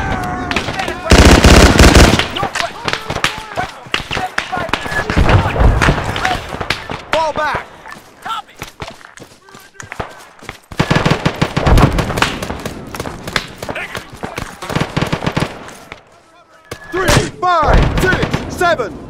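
Machine gun fire rattles in the military game Arma 3, loud sustained bursts and scattered shots near and far mixing with shouted commands from players throughout.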